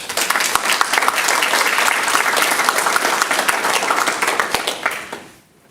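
An audience at a Manvel city council meeting gives a loud round of applause, many hands clapping densely and steadily for about five seconds before it tapers off quickly into quiet.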